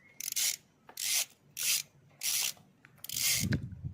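Short rasping turns come from a gear oil drain plug being unscrewed on a Honda SH50 scooter, about five close scraping strokes with brief pauses between them.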